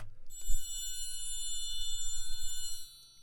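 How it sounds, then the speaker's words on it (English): A triangle rings bright and metallic over a quiet orchestral bed, a struck shimmer with a long sustain and a few lighter strikes that decay toward the end. "it's the smallest, littlest, dinkiest, littlest instrument called a triangle."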